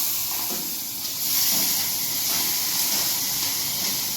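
Chillies being tempered in hot oil give a steady, close frying hiss that swells slightly after the first second and holds without a break, with no voices.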